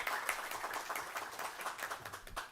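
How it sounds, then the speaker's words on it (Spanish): An audience applauds speaker Juan Pablo Vargas after his talk, a steady wash of many hands clapping at moderate distance throughout, with no clear voices over it. "un aplauso para don Juan Pablo"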